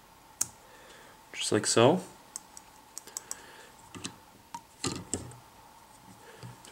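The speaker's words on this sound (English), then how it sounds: "I'm going to trim at an upward angle" Scissors trimming elk hair on a caddis fly, several small crisp snips and clicks close to the mic, sparse and irregular, with someone speaking briefly between them.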